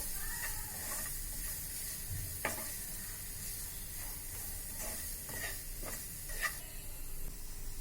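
Spices with garam masala, chaat masala and coriander powder frying in oil for aloo patties: a quiet, steady sizzle broken by several sharp stirring clicks and scrapes against the pan.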